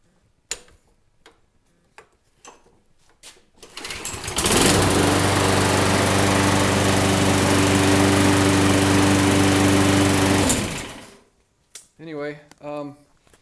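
A pull-cord lawn mower gives a few short rattling tugs, then its small engine catches and runs loud and steady for about six seconds before cutting off, followed by brief sounds of handling.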